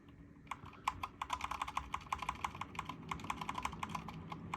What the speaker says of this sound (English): let's see if I can use this stupid small keyboard